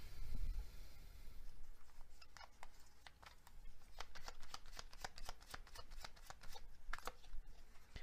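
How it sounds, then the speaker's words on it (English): A deck of tarot cards is shuffled in a quiet room, a run of crisp, rapid riffling flutters that repeat close up and alone, without any voices. "I'm going to get a clarifying card for this."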